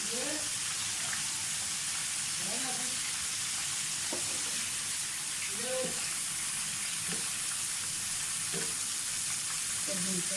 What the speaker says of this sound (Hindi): अब दूसरी साइड पे अंडों को थोड़ा सा फ्राई करेंगे